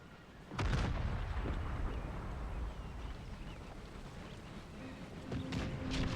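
Troops firing at will in Empire Total War: an opening thunderous volley followed by a long rolling rumble of scattered musket and cannon fire, with fresh bursts near the end.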